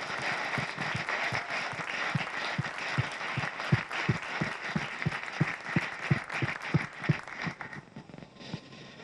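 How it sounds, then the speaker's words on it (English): Applause from the audience at a market ribbon cutting ceremony, fairly sparse clapping with distinct individual claps standing out over a soft crowd wash, moderately loud and fading near the end. "Please, everyone, join me in giving all of these partners a big round of applause."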